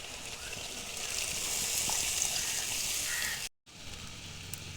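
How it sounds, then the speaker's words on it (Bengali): Water splashes steadily into simmering rui fish curry gravy on the stove, a continuous wet sizzling hiss that cuts off briefly near the end, with no talking. "আরও একটু জল দিয়ে দেবো"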